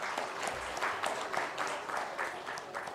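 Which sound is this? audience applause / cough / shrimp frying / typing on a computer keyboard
audience applause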